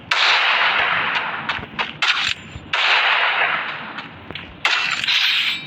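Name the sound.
gunshots in the video game Free Fire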